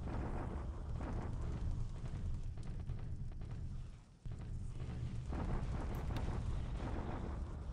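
Artillery bombardment in the War in the Pacific strategy game, a continuous deep rumbling barrage of booms like distant thunder, briefly dipping and cutting out near the middle before resuming at full strength.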